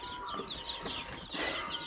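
Chickens on a poultry farm cluck softly in a few faint, brief calls over a low background hum.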